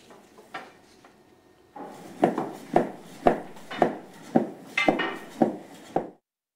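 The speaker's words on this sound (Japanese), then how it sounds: "会場には包丁の軽快な音が鳴り響いていました。" Rapid kitchen knife chops cutting soba noodle dough on a wooden board at an amateur soba-making competition in Bungotakada, Oita, about nine crisp, evenly spaced thuds, close and fairly loud, after a quieter opening.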